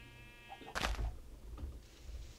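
A sheep in the Minecraft video game gives a short bleat, fairly close and clear, followed by faint game noises in an otherwise quiet scene.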